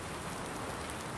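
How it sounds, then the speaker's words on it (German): Steady rain falls in Farming Simulator 19 on the Vorpommern Rügen map, a continuous close wash of drops with no pauses and no voices. "Und es regnet, ne?"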